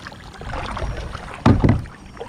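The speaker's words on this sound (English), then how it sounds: "We're here going through and paddling out." Paddle strokes from a Lifetime Teton Angler kayak moving across water, with a soft wash of water noise building to two louder splashing strokes near the middle before easing off again.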